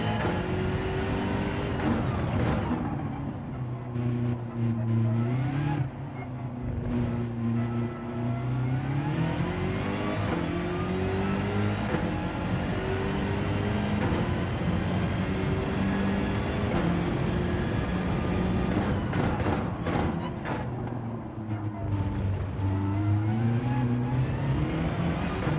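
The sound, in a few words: Supra race car engine in Gran Turismo 7 video game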